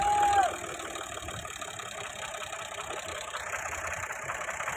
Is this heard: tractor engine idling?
yes